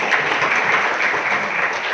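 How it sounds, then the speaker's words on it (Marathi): Audience applause at an awards ceremony marking a daily newspaper's 15th anniversary, honoring a guest, a steady dense wash of many hands clapping throughout, loud and close with no pauses. "सरांसाठी एकदा जोरदार टाळ्या."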